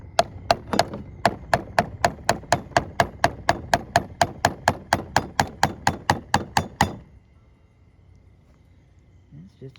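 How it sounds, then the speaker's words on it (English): A hammer taps a wheel bearing seal into place on a 2001-05 Kia Rio front hub, more than twenty light, even metallic taps in quick steady rhythm, close up, then stopping into near silence. "we'll take our hammer and we'll just kind of gently tap our seal in place"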